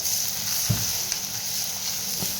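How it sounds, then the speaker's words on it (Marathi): Onion and curry leaves, with cumin, fry in a hot pan for sprouted matki usal, giving a steady close sizzle broken by a couple of soft stirring knocks. "कांदा टाकून घ्यायचा आहे कढीपत्ता टाकून घेऊ व्यवस्थित मिक्स करून घ्यायचं आहे"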